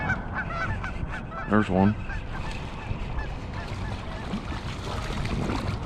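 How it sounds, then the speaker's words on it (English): Geese honk from across the water during a fishing session after heavy rain, with a distinct burst of loud honks midway over quieter background, and a person briefly speaks. "I was listening to the geese across the way just honk at me."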